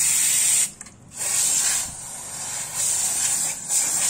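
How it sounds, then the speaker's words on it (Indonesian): Ethanol-based cleaner sprays onto a disc brake in steady, loud hissing bursts, with two brief pauses between them, close up and with no talk. "Kalau saya lebih sering langsung kayak gini tadi, semua semprot."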